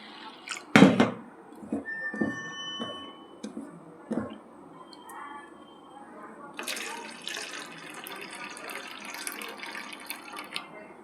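Water from a kitchen tap runs while food is washed, with a few splashy knocks at first, then a steady, fairly close gush of flowing water. Faint background voices may be present.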